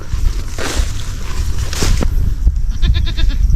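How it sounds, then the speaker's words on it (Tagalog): A small goat bleats on a farm in a grassy field, a few close, loud, wavering calls near the end after rustling and shuffling movement. "Hinahanap tayong kambing. Ayun, nandito siya. Yung maliit na kambing, oh."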